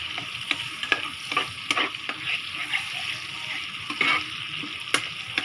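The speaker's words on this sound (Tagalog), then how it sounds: "Haluin lang natin siya." Spicy butter pork stirred in a hot pan, a light sizzle under repeated sharp spatula clinks and scrapes against the metal, close and without talking.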